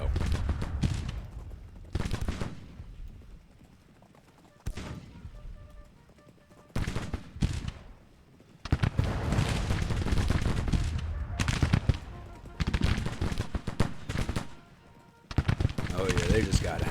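Massed rifle volleys from a Civil War regiment in a strategy game ring out in several loud, separate bursts, each one a crackling fusillade that fades out before the next.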